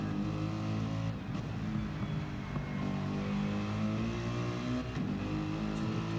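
A Porsche race car engine drones steadily on track during a 24-hour Nürburgring endurance race in a racing game, a sustained mid-distance tone that rises and falls slightly through gear changes.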